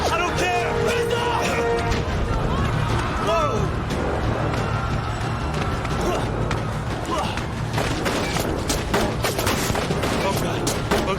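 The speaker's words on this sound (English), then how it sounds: "The soldiers are shooting!" Rapid, dense bursts of soldiers' gunfire from Mass Effect 3 crackle steadily throughout at close range, with voices talking over the shooting.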